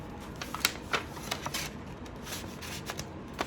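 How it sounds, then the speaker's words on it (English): A small natural brown card is slipped into a custom branded shipping mailer box, giving close papery rustles and light taps with a few sharper scrapes, no talking. "So I got these little natural little, brown cards, and I go ahead and I stick this in like this."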